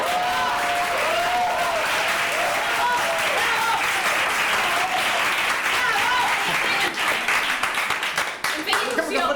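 Audience applause fills a small microtheatre session at Can Portabella in Sant Andreu: dense, steady clapping from a crowd throughout, with voices mixed in and the clapping thinning near the end.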